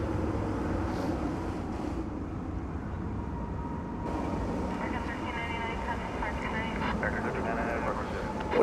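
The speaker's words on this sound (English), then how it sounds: "It's American Flight 1618 coming in from Denver, an Airbus A321." An American Airlines Airbus A321 arriving at DFW Airport from Denver at night: a steady, loud broadband jet roar that fills the whole stretch without letup, with voices talking underneath.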